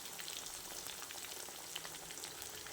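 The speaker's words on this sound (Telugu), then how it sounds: "అందులో కొన్ని ఫ్రై చేస్తున్నాను" Vanjaram (seer) fish pieces frying in hot oil give a steady, dense sizzle with small crackles, quiet and close, with no voices over it.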